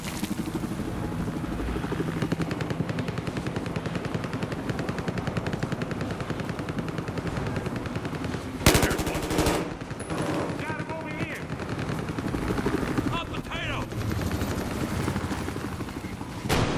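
A helicopter in a Battlefield match throbs steadily beneath dense machine-gun bursts and rifle fire, with a loud explosion midway and shouting players mixed into the chaos.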